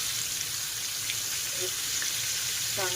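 Bombil (Bombay duck) fish fry crisp in a hot pan with a steady, close, continuous sizzle and crackle throughout, and a faint voice briefly near the end.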